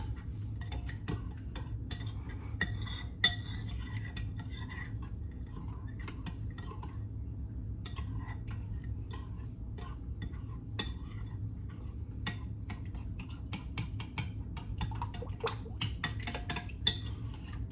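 Tomato paste, salt and other ingredients for pizza sauce are stirred together in a bowl, with a steady series of light utensil clinks and scrapes against the dish over a low background hum, and no talking.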